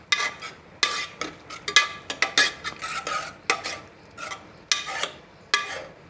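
A spoon stirs cooked lentil mash with jaggery in a metal pot, giving sharp, irregular scraping clinks and soft thick squelches, close up with no talking.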